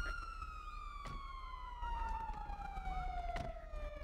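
A police car siren wails continuously in the GTA 5 FiveM video game, a steady falling tone heard fairly close over a low engine rumble and occasional thumps.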